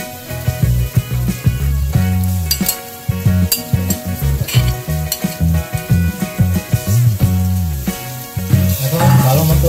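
Beef spice paste of chili, cumin, garam masala, ginger and garlic frying loud and close in a pot, stirred with repeated scraping strokes of a utensil over a constant crackling sizzle.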